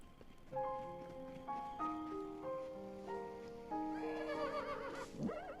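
A horse in Zelda Breath of the Wild gives a single clear whinny near the end, rising and then falling, over steady melodic game music.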